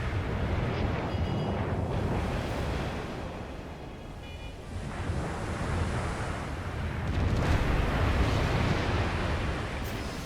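Torpedo explosions in the naval video game Steel Ocean, a loud rumbling, surging roar of blasts and churning water that swells and fades across the clip.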